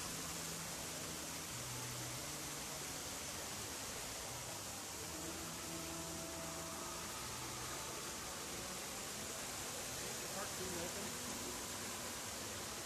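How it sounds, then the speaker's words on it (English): A waterfall roaring as a steady, even wash of broadband noise that never lets up, with faint tonal hums underneath. "All right, Kim, I'm at the waterfall."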